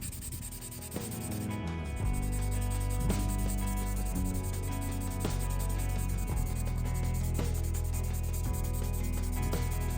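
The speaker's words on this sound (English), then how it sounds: "I did sand it down a little bit and added some more primer to blend it all in" Primer being sanded smooth on the body panel of a plastic Revell Chevrolet Corvette C8 model kit, a close continuous rubbing rasp with repeated strokes and slight rhythmic variation, alone without talk.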